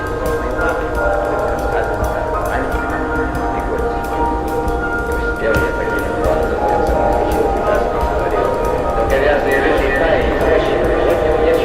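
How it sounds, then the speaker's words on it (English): Train in the video game Vertigo 2 rumbling steadily throughout with a dense, continuous mechanical drone and faint clattering, loud and close, with a brief tonal shift near the end. "Join my soldiers on the train."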